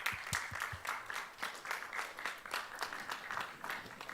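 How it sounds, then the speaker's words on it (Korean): An audience applauds at the opening ceremony of the BIOPLUS INTERPHEX KOREA 2020 biotech event, a steady moderate round of clapping heard from a middle distance in a large hall. "여러분 다시 한번 이엔셀의 큰 박수로 축하해 주십시오."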